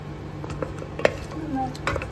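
Cardamom, cloves and cinnamon stirred in a pressure cooker with a metal spoon, giving scattered scraping clinks against the pot over a faint sizzle.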